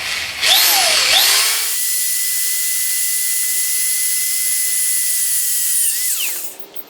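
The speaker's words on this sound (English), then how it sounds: "Right now I'm just using that little 3/16 inch pilot bit" Power drill boring pilot holes with a small 3/16 inch bit for a motorized bike build, a loud steady high whine running several seconds after a brief spin-up, then winding down at the end.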